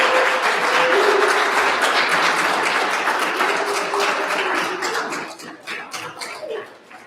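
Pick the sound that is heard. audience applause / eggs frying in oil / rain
audience applause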